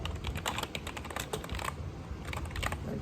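Rapid typing on a computer keyboard, dense clattering keystrokes close up, pausing briefly in the middle before resuming, with no talking.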